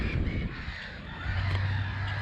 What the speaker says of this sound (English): There's loads of birds here.